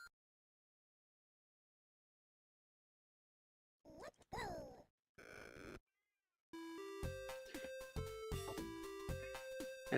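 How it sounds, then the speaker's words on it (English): A house cat meows outside a room door to be let in, a couple of separate crying calls after silence, then retro video game music plays over it. "I think my cat is crying to get in the door."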